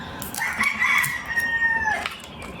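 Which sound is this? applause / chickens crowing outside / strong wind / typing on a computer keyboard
chickens crowing outside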